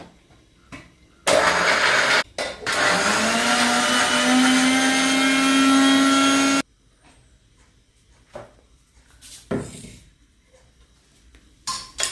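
A mixer grinder crushes coconut in a loud, close whir that runs for about five seconds, its motor pitch climbing as it spins up. Brief clicks and soft kitchen sounds come before and after.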